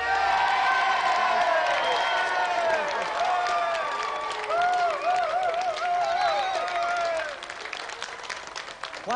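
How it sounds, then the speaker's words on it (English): A studio audience on a game show gives sustained applause with cheers and whoops, loud and continuous before easing slightly toward the end. "let's have another round of applause for Ben McCluskey and our special guest"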